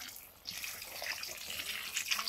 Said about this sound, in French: On rajoute un peu d'eau